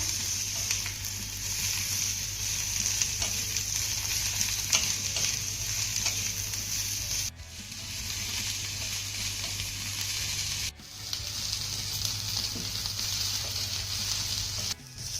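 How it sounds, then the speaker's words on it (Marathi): Onion, garlic cloves and half an inch of ginger fry steadily in a pan, a continuous close sizzle with brief stirring breaks, alone without talk. "आता हा कांदा आपल्याला हलका सोनेरी रंगावरती परतून घ्यायचा आहे"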